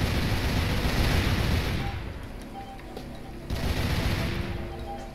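Sustained rapid gunfire bursts in Tomb Raider Legend, loud and dense, fading briefly before a second heavy barrage returns, with no talking over it.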